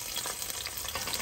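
Four cloves of minced garlic frying in olive oil in a stock pot, a dense, steady close sizzle with small crackles throughout.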